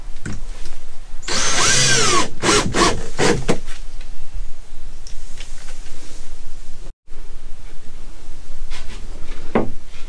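Power drill driving screws through a bed-lift bracket into a wooden block during an RV travel trailer installation, with a loud sustained whirring burst followed by several short grinding pulses and quieter handling noise.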